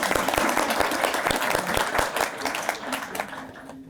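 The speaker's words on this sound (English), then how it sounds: "Round of applause for the question." An audience at an event on inclusive meetings applauds, a dense burst of clapping that is loud at first and gradually thins out.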